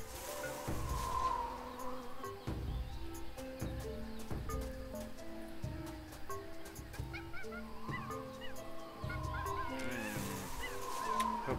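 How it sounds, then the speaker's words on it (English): Jungle ambience from the video game Tales of Monkey Island: a steady bed of chirping insects and buzzing, with repeated bird-like calls and honks rising over it, plus a background musical score. "That jungle sure is noisy."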